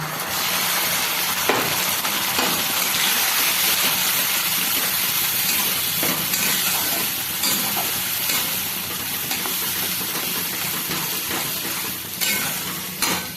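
Potatoes and spice paste of cumin, coriander and chilli powder sautéing in a pan, a loud dense sizzle with steamy hiss and occasional scrapes of a spoon, close up and without speech.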